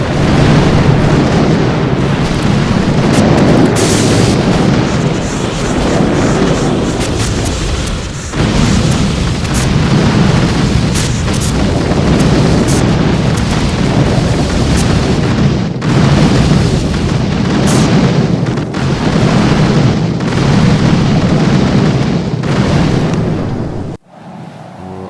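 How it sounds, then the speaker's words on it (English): Grenades clearing mines in the mobile strategy game Boom Beach produce a dense, continuous barrage of loud booming explosions and rumbling blasts over game effects for the full stretch. "use brick to clear the rest of the mines as much as possible with grenades"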